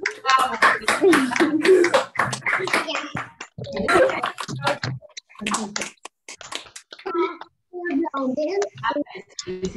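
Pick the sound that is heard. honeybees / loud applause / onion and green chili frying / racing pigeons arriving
loud applause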